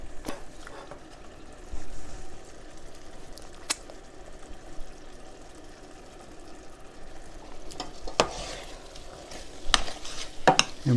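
Pork chop mixture being stirred in a pan, with a steady low scraping and a faint sizzle underneath, broken by a few sharp clinks of utensil against the pan.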